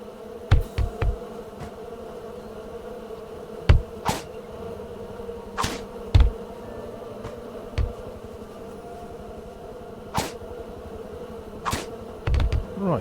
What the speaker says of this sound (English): And the bees will follow you around.